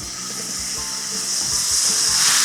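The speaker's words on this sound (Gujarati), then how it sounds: "મસાલો નાખીએ એટલે તરત જ થોડુંક પાણી ઉમેરીશું" Loud, steady sizzling and hissing from a hot pressure cooker, swelling slightly toward the end as water hits the masala for soya pav bhaji, with faint low clinks underneath.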